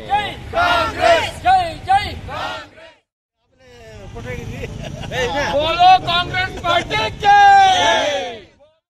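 Congress party workers shout victory slogans at a celebration near a town circle in Kodagu, loud overlapping voices cheering in bursts, breaking off briefly before swelling again.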